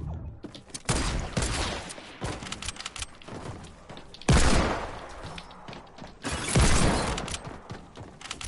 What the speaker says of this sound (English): Hand cannons, boy.